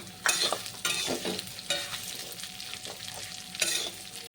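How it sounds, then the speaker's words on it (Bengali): Raisins and vermicelli frying in a pan for a sweet milk dessert, crackling sizzle in repeated bursts as the pan is stirred, fairly quiet and close with no voices. "আর সিমইগুলোকেও আমি একটু ফ্রাই করে নেব।"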